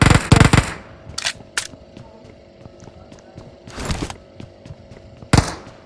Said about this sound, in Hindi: पीछे से एक बंदा फायरिंग करता है।